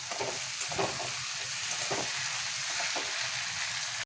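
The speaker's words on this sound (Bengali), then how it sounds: "আদা রসুন কাঁচা লঙ্কা দিলাম, রসুনটা একটু ভেজে নিই।" Tomato, garlic, ginger, green chili and onion sizzling in hot oil for a dal tadka, a steady, dense crackle with soft stirring scrapes running throughout, close and continuous.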